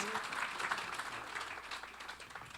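Audience at a Los Angeles ska club show applauding and cheering as a singer takes the stage, a dense steady wash of clapping from a crowd, moderately loud and continuous throughout.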